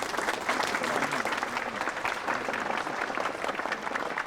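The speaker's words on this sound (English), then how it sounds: "How about a round of applause for everybody?" A crowd gives sustained applause at a celebration held in the Steamfitters Event Center, with dense, even clapping that stays loud for the whole stretch.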